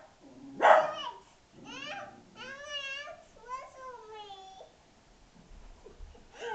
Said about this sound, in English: And the dogs are getting in on it too.